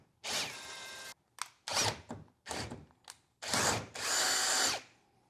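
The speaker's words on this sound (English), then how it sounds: "Start with a small bit. Work your way up to whatever size." A power drill bores holes in a boat, stepping up through bigger bits for M8 bolts. It runs in loud, close bursts of whining, separated by short gaps, with no voices over it.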